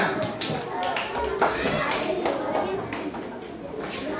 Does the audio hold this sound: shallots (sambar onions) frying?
no